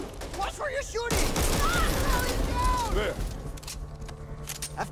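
Gunfire in the co-op zombie shooter Back 4 Blood, a dense, steady burst of shots and loud combat noise lasting several seconds, with voices calling out over it and easing off toward the end.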